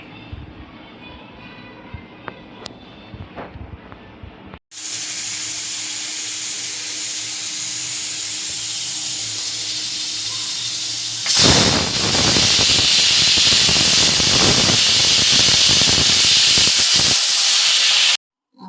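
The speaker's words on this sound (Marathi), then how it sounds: "तर मी आता एक कुकर ठेवते भाजी उकडण्यासाठी" A pressure cooker boiling vegetables for pav bhaji on a home stove hisses steam loudly and steadily, then releases a harsher, louder whistle-like blast that runs for several seconds, after quieter kitchen knocks at the start.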